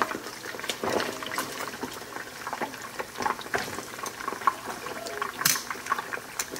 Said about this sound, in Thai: สองพ่อลูกรอปลาทอดให้สุก